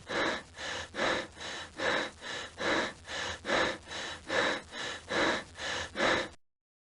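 Rapid, deep breaths repeat in a steady rhythm, about fourteen loud in-and-out puffs close to the ear, then silence.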